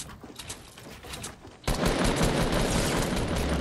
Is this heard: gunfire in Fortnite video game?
yes